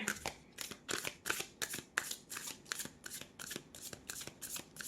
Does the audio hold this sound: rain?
no